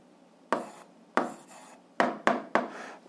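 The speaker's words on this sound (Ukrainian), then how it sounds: "Ну і записуємо відповідь, пишемо відповідь." A pen scratches out an answer to an algebra problem on paper in five short, close strokes. The strokes are separated by brief pauses, and the last few come in quicker succession.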